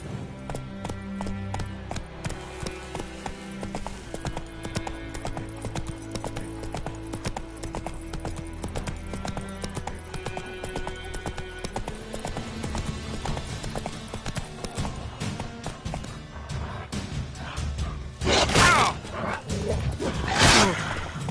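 Roach the horse gallops in The Witcher 3, hooves clip-clopping in a fast, steady rhythm that carries on throughout, growing louder and busier near the end.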